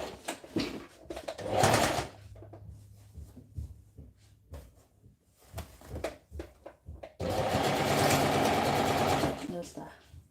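A sewing machine stitches elastic onto a waistband in two short bursts, a brief run early on and a longer steady run near the end, with a person talking in between.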